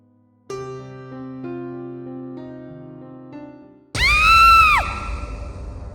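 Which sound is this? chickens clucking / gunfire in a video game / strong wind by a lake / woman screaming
woman screaming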